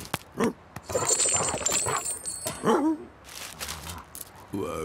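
A cartoon dog yips, whimpers and barks in short bursts amid lively animated-series sound effects and a whooshing bustle, fairly close and loud, with brief chirpy squeaks around it.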